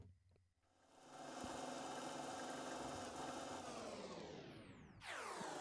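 A dub plugin's tape machine mechanics effect gives a continuous mechanical whirring drone that swells in, holds steady, then drops in pitch and cuts to a brighter burst at the end, with no talking.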